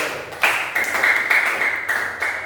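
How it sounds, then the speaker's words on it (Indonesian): Classroom clapping for a student group that has just finished presenting, a fairly close, moderate patter of hands with a few sharper accents, continuing briefly and evenly. "Beri tepuk tangan buat kelompok 1"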